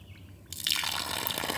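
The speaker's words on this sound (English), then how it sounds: "Cold. Cold spring water." After a brief quiet moment, cold spring water begins trickling and splashing steadily from a pipe of a DIY gravity-fed water system, close by and continuous.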